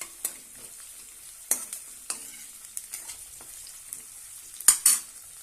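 Crushed garlic and green chili paste fries in hot oil with a soft sizzle, broken by several sharp scrapes and clinks of a spoon stirring in the pan, close and fairly quiet.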